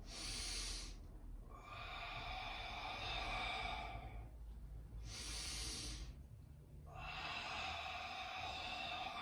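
Forceful, rhythmic breaths from a standing breath abs conditioning exercise: four strong hissing exhales in quick succession, close and loud, with no talking.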